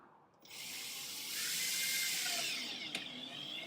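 Screws driven into an acoustic panel with a FixArt clip mounting, a short whirring burst that rises and holds, close and fairly loud, ending with a small click.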